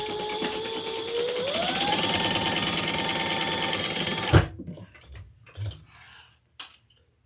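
A sewing machine stitches down the sides of a slip pocket on a handbag in one steady, rising whir for about four seconds, then stops, followed by a few soft handling clicks.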